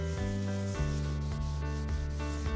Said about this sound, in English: The wax is applied with a scouring pad.